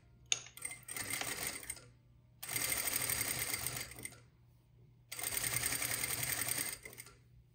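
A sewing machine stitches bias tape for a wrap circle skirt in three bursts of rapid, even whirring, separated by short pauses, close and clear with no talk.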